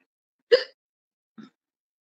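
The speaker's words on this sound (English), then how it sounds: "I start getting the hiccups." Two hiccups, a sharp loud one followed by a softer one about a second later, in otherwise near silence.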